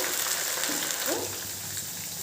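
Coriander leaves fry crisp in hot oil, giving a steady, close sizzle that holds level throughout with no talk over it.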